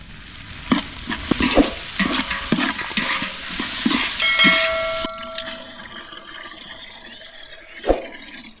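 Ginger garlic paste fries in a pan for a vegetable biryani, a loud crackling sizzle broken by quick stirring knocks and scrapes. Past the midpoint it settles into a quieter, steadier hiss, with one sharp knock near the end.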